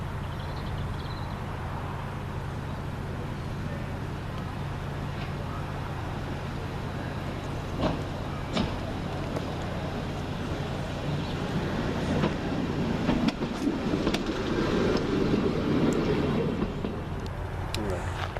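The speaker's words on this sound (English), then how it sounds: "Arriving back to terminate from Stourbridge Town with the West Midlands Railway Stourbridge Shuttle is" West Midlands Railway Stourbridge Shuttle railcar 139002 rolls into Stourbridge Junction station over a low, steady rumble, with faint clicks along the way and a rougher swell of running noise toward the end as it draws closer.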